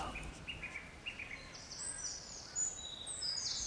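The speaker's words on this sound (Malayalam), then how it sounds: "പക്ഷികളുടെ ശബ്ദങ്ങൾ" Birds chirp and whistle faintly outdoors, short scattered calls over a soft background hiss, with no talking.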